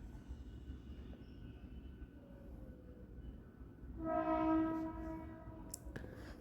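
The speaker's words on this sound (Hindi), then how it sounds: "थोड़ा यहाँ पे ट्रेन का आवाज़ ज़्यादा आता है" A train passes somewhere in an indoor setting, with a low rumble that swells briefly into a tonal, horn-like whine of rail noise before fading, faint and distant, with no talk.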